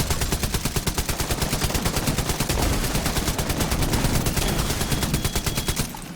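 Sustained automatic fire from the player's weapon in The Division, a steady fast rhythm of loud, close shots running almost without pause before cutting off at the end.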